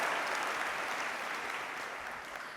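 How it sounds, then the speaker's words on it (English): Steady audience applause fills a large hall at a culinary awards ceremony, dense and even throughout and gradually fading slightly toward the end, with no voices on top. "Absolutely, round of applause."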